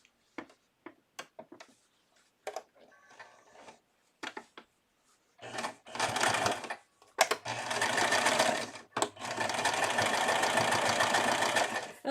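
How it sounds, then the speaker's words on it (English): A sewing machine stitches a cloth diaper: a few soft ticks and clicks, then close, steady whirring runs in several bursts separated by short pauses. "I'm just going to sew it."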